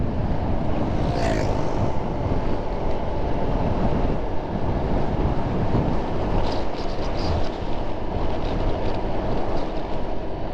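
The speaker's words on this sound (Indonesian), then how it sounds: "Angin cukup kencang ya, cukup terasa." Strong wind buffets a car on a 156 km road trip from Bulukumba to Makassar, a loud continuous low roar and rumble of wind and road noise that runs steadily with no speech.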